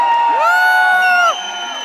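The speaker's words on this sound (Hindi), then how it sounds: "आपकी किलकारियां, आपकी तालियां, आपकी सीटियां जितना बड़ा स्वागत कर रही है" A college crowd welcoming a guest with a loud whistle and whooping cheer: a bright gliding tone rises, holds for about a second, then drops away as the crowd noise thins.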